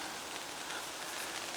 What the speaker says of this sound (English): we've got a little bit of rain coming in